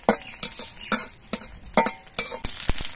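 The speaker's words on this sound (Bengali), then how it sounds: "এবার এই কড়াইয়ের মধ্যে দিয়ে আমি কাঁচা লঙ্কাগুলো ভেজে নিচ্ছি।" Green chilies fry in a wok for an egg recipe, with a steady oily sizzle broken by repeated sharp scrapes and clinks of a spatula stirring against the metal.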